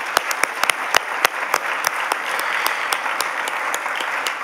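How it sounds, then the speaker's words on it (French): An audience at an awards ceremony breaks into sustained applause, dense clapping with sharper individual claps popping out in an uneven rhythm throughout. "Nous pouvons maintenant applaudir toutes nos personnalités inspirantes."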